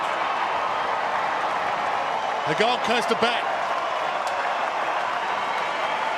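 An AFL stadium crowd at a night match rises and cheers, a steady loud roar of noise that holds throughout, with a commentator talking briefly over it.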